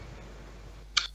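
A single short mouse click on a computer rolls dice in an online tabletop role-playing game, sounding crisp and close against quiet room noise.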